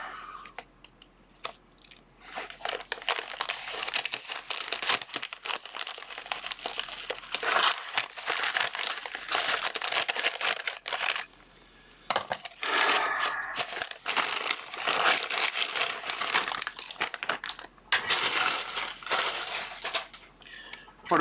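Opening a mail package with scissors, with repeated close crinkling and crumpling of plastic packaging in bursts separated by brief quiet pauses.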